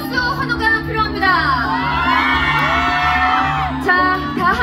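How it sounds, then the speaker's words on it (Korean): A film premiere showcase audience cheers and shouts loudly, a dense crowd roar of whoops and high excited voices, with an amplified voice briefly audible over it. "여러분 큰 박수 환호가 필요합니다."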